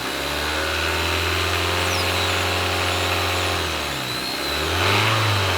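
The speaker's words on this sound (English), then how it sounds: "we're going to rev the engine up" A car engine, revved during carbon cleaning, runs steadily at a raised pitch, dips briefly, then revs up again; loud and close with a steady hum.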